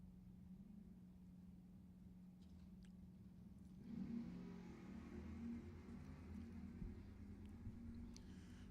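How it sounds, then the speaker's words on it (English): Faint, distant drag racing cars, a Mustang and an Oldsmobile, launching down the strip at Lebanon Valley Dragway, with a low engine drone that swells into a muffled roar partway through. "the edge to the Oldsmobile, but he can't run the number, and Noble goes dead on with a 5 for the win"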